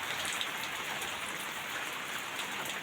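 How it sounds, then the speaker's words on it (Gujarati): Heavy monsoon rain pours down outdoors in a steady, dense hiss of drops drumming on surfaces, continuous and fairly distant-sounding, with no voices. "વરસાદ તો ધબધબાટી બોલે છે બધું"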